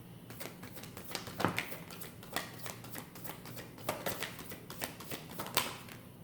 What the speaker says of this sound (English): I'm just going to give it just a quick little shuffle